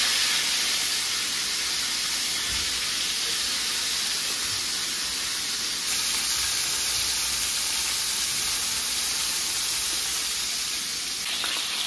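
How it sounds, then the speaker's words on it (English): Chicken pieces fry in a hot pan with a steady, loud sizzle and spitting hiss that runs unbroken throughout, close up, with no talking over it. "You see that sizzling?"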